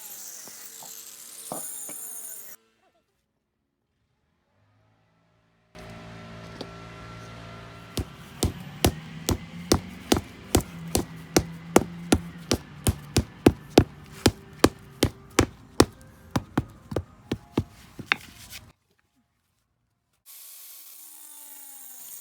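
A cutting disc grinds through concrete patio paver bricks in a rapid series of sharp, regular rasping strokes, close and loud, with silent gaps before and after the cutting.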